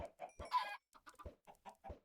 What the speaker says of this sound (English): I'm going to go breed some of our chickens.